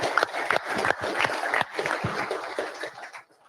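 Applause at a live driver meeting: a crowd claps in a steady patter of many hands for a few seconds, then fades out to quiet.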